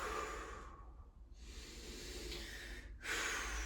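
A slow, deep breath, with a long airy inhale followed by an exhale and a short gap before the next draw of air, close and soft with no voices.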